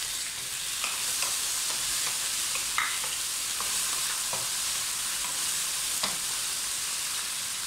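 Tomatoes and onions sauté in a pan for tomato chutney, a steady close sizzle and fry with occasional stirring scrapes and clicks, no voices.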